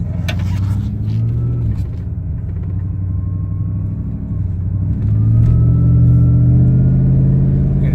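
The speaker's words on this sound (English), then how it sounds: "we're gonna just go for a normal drive." A hot-rodded 600+ horsepower 2018 Toyota Tundra pickup pulls away from a light on a normal street drive, its deep engine rumble steady and loud up close, then swelling as it builds revs in the second half.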